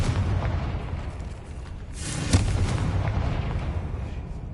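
A Confringo fire spell bursts in Hogwarts Legacy with a single moderate explosive thump and a crackling tail, set against a steady low background rumble.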